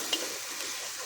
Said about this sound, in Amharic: መጀመሪያ ዶሮ ነው መጥበስ ያለባችሁ።